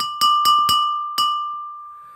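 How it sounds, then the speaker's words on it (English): A teaspoon strikes a homemade instrument: four bright metallic strikes in quick succession, then a fifth after a pause, each ringing out with a sustained glassy, bell-like tone that slowly fades. "First, I got this teaspoon. Let's see what this sounds like."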